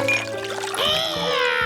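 Water pours in a cartoon, a short liquid gurgle with rising tinkling tones over a steady background bed, no talk.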